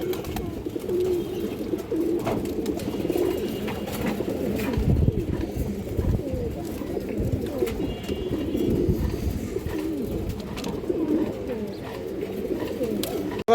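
Gorra pigeons coo softly and continuously, several birds close by, with a low, steady murmur of overlapping calls and no pause.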